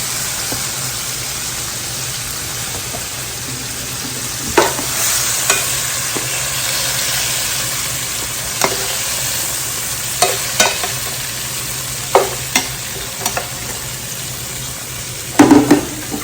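Meat sears in oil in a skillet, giving a steady, loud sizzle throughout, with occasional light clinks and scrapes of a utensil stirring the pan.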